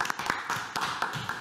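A small crowd claps for donors, a thin scattering of hand claps in irregular rhythm, fairly faint and brief.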